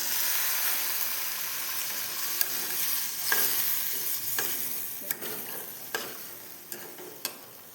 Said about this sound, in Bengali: আমরা এখন মশলার মধ্যে অল্পটুক জল ঢেলে দেব